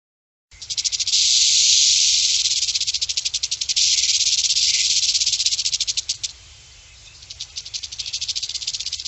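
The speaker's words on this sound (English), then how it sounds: "And here's a timber rattlesnake." A timber rattlesnake in the New Jersey Pinelands rattles in a loud, continuous buzzing hiss that swells and fades in long bursts, with brief pulsed stutters between them.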